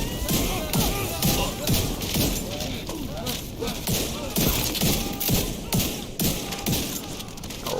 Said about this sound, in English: Here, have a fire grenade.